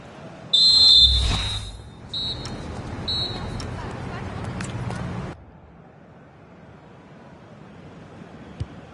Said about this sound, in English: So the referee's whistle